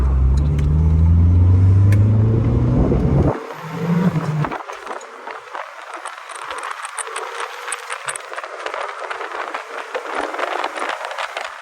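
A 1989 Chrysler LeBaron GTC Turbo driving: a loud engine revs and climbs through gears, then drops off to road rumble with rattles and wind noise inside the cabin.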